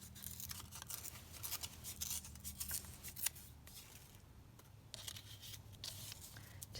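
A leftover book page torn by hand for a junk journal tab, several short rough ripping and rustling bursts close up, with quieter gaps of paper handling between them.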